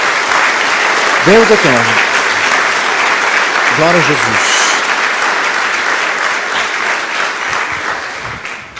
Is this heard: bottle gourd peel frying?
no